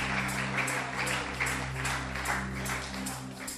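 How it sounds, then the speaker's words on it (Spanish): Church congregation applauding loudly and steadily, the clapping carried over a sustained musical drone. "Un aplauso fuerte al Dios que vive."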